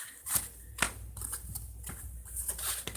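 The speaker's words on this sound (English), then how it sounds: "I'm going to keep shuffling." Spirit card deck shuffled by hand, with repeated soft riffling and slapping bursts of paper cards arriving every half second or so, close and moderately quiet, with no talking.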